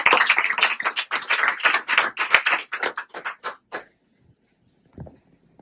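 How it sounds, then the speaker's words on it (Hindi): A small audience at a meditation centre gathering in Kaithal claps in a brisk, uneven burst of close, sharp hand claps that thins out and stops after about four seconds, leaving near silence with one faint knock. "बबीता जी के लिए जोरदार ताली।"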